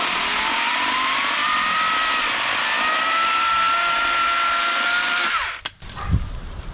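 A loud, steady whine of a small cordless electric chainsaw cutting through a large piece of wood, running evenly for several seconds before cutting off abruptly.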